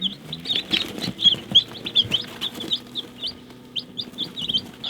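A brood of newly hatched baby chicks peeps constantly with many high, shrill chirps overlapping in quick succession, close by, with soft shuffling and a few low clucks underneath.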